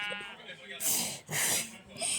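Several loud, harsh bleats from a sheep in Minecraft come in quick succession, each a short raspy burst, alongside a person talking.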